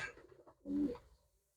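A single soft coo from a red-marked pigeon, low and rounded, rising briefly out of quiet background rustle.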